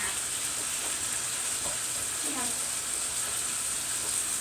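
Steady broadband sizzle of meat frying in a pan for Texas hot chili sauce, constant and close, with faint clinks and scraping of a utensil chopping the meat now and then.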